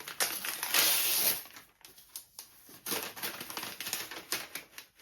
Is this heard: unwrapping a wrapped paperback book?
yes